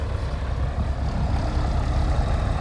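Ford and New Holland tractors clearing land and pulling trees, a heavy low engine drone that rumbles steadily and continuously close by, with no talk.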